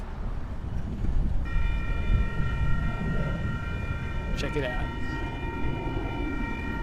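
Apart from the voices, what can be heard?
train arriving at a station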